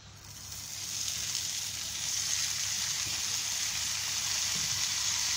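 A mix of onion, tomato, ginger and garlic sizzling in frying oil in a pan, making a steady close hiss that grows slightly louder over time, with no voices.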